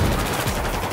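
Dense, continuous machine gun fire from a first-person shooter match in Battlefield 4, a rapid unbroken stream of shots filling the whole second at close range.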